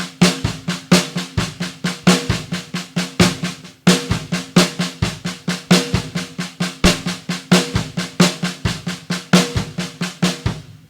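A single drum played in a steady stream of single strokes for about eleven seconds, with louder accents falling in a repeating pattern among softer taps, close and dry, no talking.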